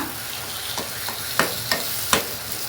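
Chutney ingredients frying in sesame oil over a low flame, a steady quiet sizzle broken by a few sharp scraping stirs of the pan, with no talk.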